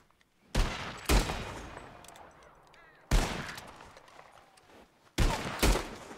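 Rifle shots at flying birds in Red Dead Redemption 2, three loud cracking bursts spaced a couple of seconds apart, each followed by a rolling echo that fades before the next.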